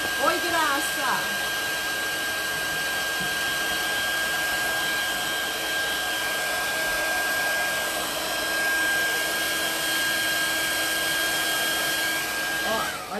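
A hair dryer blows with a loud, steady whirring roar throughout, and its pitch shifts slightly as it is moved around during hair styling.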